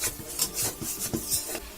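Beef from a cow's head being stirred and fried in a pot over low heat, heard as quick, irregular scraping and rubbing strokes against the pot in a short, close burst.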